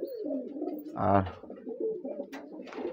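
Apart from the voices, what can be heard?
satinette pigeons cooing in home loft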